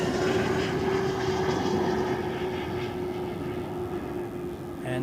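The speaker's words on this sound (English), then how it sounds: "the Swiss A220 from" Swiss Airbus A220 arriving from London at Zurich Airport, a sustained engine drone with a steady whine tone, moderately loud and unbroken, and a brief faint noise near the end.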